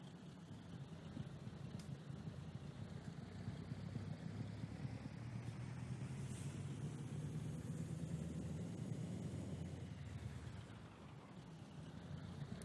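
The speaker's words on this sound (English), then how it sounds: "Love the way this truck sounds." A Mack truck's engine in American Truck Simulator, a steady low diesel rumble that holds loud and even throughout, easing slightly near the end, with no talk over it.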